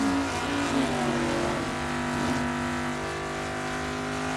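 A Mustang drag racing car launching down the quarter mile at a Super Pro bracket event, a loud sustained engine roar with shifting, rising tones, steady and close throughout with no talk.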